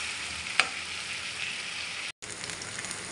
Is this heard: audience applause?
no